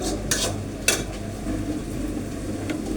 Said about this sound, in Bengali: আজকে শনিবার, পেঁপে তরকারি রান্না করছি।